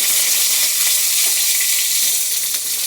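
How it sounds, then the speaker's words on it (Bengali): Fish fries crisply in hot oil, a loud, dense, continuous sizzle and crackle heard close up, with a few faint pops and no voices. "একটু কড়া করে মাছ ভাজা না হলে না"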